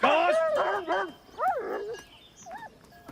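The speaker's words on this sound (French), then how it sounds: "Beau chien!" A dog barks and yelps several times in quick bursts close by, with a person's voice calling out among the barks.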